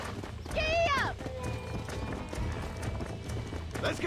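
Wild horses galloping in the game A True Rancher, with a steady clip-clop of hooves and a loud neigh near the start, plus distant talk and shouting.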